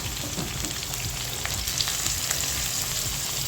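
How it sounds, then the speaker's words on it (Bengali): Shrimp tipped into a pan of onions already fried until red, giving a steady close sizzle with faint crackles throughout and no voices. "এখন আমি চিংড়ি মাছগুলো দিয়ে দেব।"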